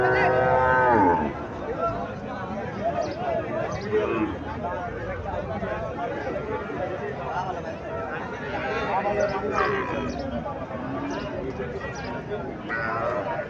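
A dairy cow at a village cattle market moos loudly and close at the start, with a crowd talking and haggling continuously around it.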